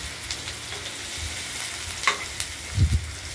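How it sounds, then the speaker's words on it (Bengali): A spice mix of poppy seed, mustard and flattened rice fries in a pan with a steady soft sizzle, broken by occasional light scrapes and clinks and a dull knock near the end, no talking. "শুধু মশলাটা ভেজে নেওয়া।"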